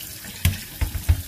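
Tap water runs over smoked herring being rinsed at a sink. A soft steady flow is broken by a few short splashing bursts close by.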